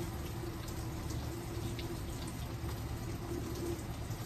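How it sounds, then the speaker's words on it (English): Water running steadily from a tap or spray to rinse perm rollers in hair, a continuous close, even rush of flowing water with no pauses or voices. "I just keep rinsing in the direction of the rollers, which is from the top, going back and down"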